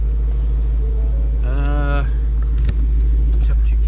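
A Ford Mustang GT engine idles steadily after several minutes of running, a constant low rumble filling the clip with a brief tonal whine partway through and a small click near the end.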